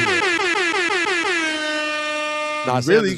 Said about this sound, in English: I'm going to give Sam an air horn for that